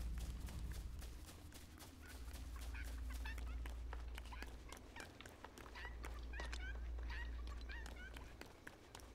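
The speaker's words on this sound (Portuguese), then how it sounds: "Essas galinhas, é engraçado." Chickens cluck repeatedly in the LEGO Fortnite video game, a busy run of short bird calls over a low, steady game hum and footstep-like taps, moderately near.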